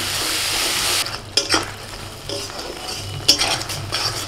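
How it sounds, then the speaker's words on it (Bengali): A spice masala in a pan sizzles loudly while a spatula scrapes and stirs it, and then water goes in and the sizzle rises in short bursts with metal scrapes. "মশলাটা নিচে লেগে যাচ্ছে, তাই অল্প একটু জল দিচ্ছি।"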